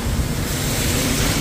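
Strong storm wind roars through the city of Mecca, a loud, steady broadband rush buffeting the microphone with no pauses and no speech.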